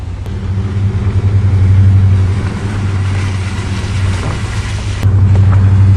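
A Subaru car engine hums steadily at close range as it pulls away from a farm, bound for scrap, with a low droning tone and slight rises in revs.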